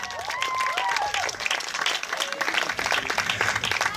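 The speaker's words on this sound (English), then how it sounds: "Give Lloyd Bow a round of applause." A crowd applauding at a camp certificate ceremony, with steady clapping throughout, a few whoops and voices rising over it.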